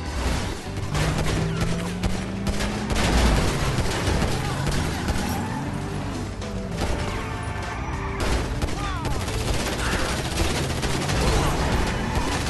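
Gunfire in the Grand Theft Auto 5 video game, a dense, sustained barrage of loud shots and crashes layered over constant game noise, with no speech.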